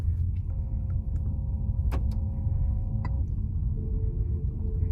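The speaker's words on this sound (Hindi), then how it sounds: "ये सोर्स 3 आ गया, अब गाड़ी चल रही है और ये थ्रू स्पीकर्स आपको आवाज आ रही है इसकी।" Simulated engine sound from an ORA 3 Pro electric car, played through its speakers while driving: a steady low synthetic hum with faint sustained tones layered over constant road rumble, plus a few brief clicks.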